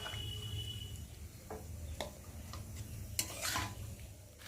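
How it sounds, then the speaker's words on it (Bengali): Pointed gourd and soybean chunks fry with spices in a pan, a quiet low sizzle under intermittent scraping and clinking of a spatula stirring, with no voices. "এখন আমি এই যে ভেজে রাখা পটল আর সয়াবিনগুলোকে দিয়ে একটু ভালো করে কষিয়ে নেব"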